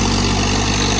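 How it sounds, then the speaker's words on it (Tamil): A John Deere 3028 EN mini tractor's 1.3-litre Yanmar three-cylinder engine runs steadily at close range, a loud, even mechanical drone that holds without a break. "டிராக்டர்னு பார்த்தா இதில் யான்மர் இன்ஜின் வந்து கொடுத்துருக்குறாங்க."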